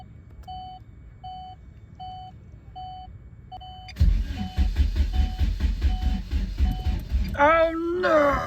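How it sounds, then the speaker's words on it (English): A turbocharged Chevy Cruze engine cranks over, producing a loud, rapid rhythmic churning that starts abruptly after a stretch of steady electronic warning beeps; the beeping continues under the cranking, and a voice joins near the end. "Hey, first crank."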